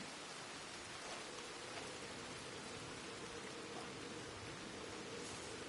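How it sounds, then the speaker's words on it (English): Steady rain falls outdoors, a dense even hiss of drops on surfaces that stays constant throughout, fairly soft and with no voices. "It's raining now."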